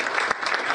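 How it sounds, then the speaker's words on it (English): A burst of audience applause for a president at a formal gathering, dense and continuous clapping heard only briefly. "he deserves a round of applause"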